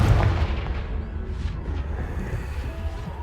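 A Confringo spell explosion in Hogwarts Legacy lands as one loud booming blast, then its rumble fades over a few seconds.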